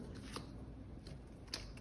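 Soft papery riffling of tarot cards being shuffled, with a few crisp snaps standing out over a steady low background hum.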